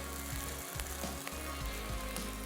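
Chicken frying in a pan, a dense continuous sizzle with low rumbling and faint clicking, close and steady throughout with no talk.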